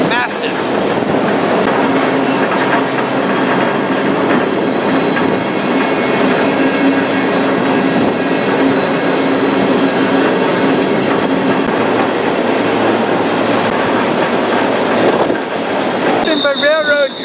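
A freight train rolls loudly through a winding canyon in Kentucky, heard up close from aboard, with a continuous roar of wheels on rails, steady clatter and occasional squeal.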